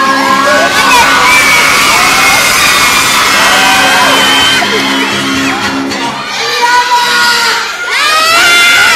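A live show audience cheers, whoops and shouts loudly and continuously, with children's high-pitched yells among the crowd, dipping briefly before surging again.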